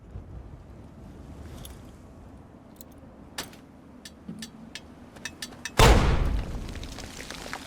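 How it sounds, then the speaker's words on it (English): A grenade goes off right at the player's feet in Fallout 3, heard as one sudden loud boom near the end after faint wind-like ambience and a few small clicks. "let me just throw a grenade at my feet"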